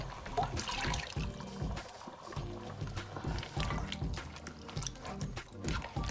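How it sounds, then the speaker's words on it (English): Water splashes and sloshes steadily through an emptied tomato container being rinsed, a continuous busy trickle with irregular gurgles, close and fairly loud throughout. "I'm just going to rinse this so that we don't waste anything"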